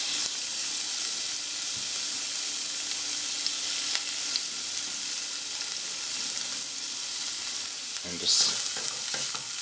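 Chopped Brussels sprouts with garlic pieces sauté in olive oil, a steady close sizzle with occasional stirring scrapes throughout, and a brief murmur of voice near the end.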